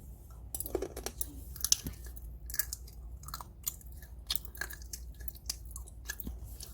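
Mint chocolate flavored almonds are chewed up close, with crisp crunches and bites scattered irregularly over soft mouth sounds, quiet and intimate with no talk.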